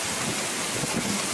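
Rain falls during a thunderstorm outdoors near horses, a continuous, dense broadband hiss and rush of downpour and wind, steady and enveloping with no voices.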